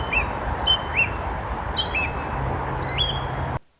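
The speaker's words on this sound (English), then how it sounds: "I heard an optimistic song thrush singing above the noise of the nearby traffic." Song thrush singing in winter in the New Forest, repeated short bright whistled phrases spaced through the clip over a steady hum of nearby traffic, moderately close.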